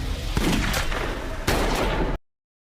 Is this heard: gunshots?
yes